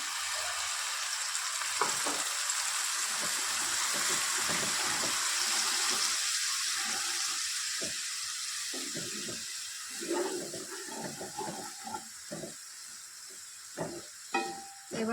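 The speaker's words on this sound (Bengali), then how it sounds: "একটু জল দিয়ে দেবো মশলা নিচে বসে যাচ্ছে" Steady frying hiss from a pan of ground cumin masala that is sticking, with splashes of water added, then stirring scrapes and knocks as the sizzle eases over the second half.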